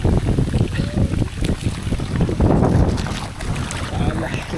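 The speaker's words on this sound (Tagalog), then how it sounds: "Lakas ng hangin." Strong wind buffeting the microphone beside a river at a high mountain campsite in Pakil, Laguna: loud, continuous low rumbling gusts with rushing noise throughout and faint voices underneath.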